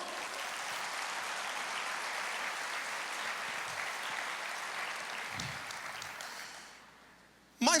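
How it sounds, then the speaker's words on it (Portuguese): A church congregation applauding the Lord, a broad sustained wash of clapping that fades toward the end before a brief loud burst. "você pode aplaudir o Senhor?"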